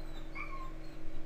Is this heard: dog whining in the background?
yes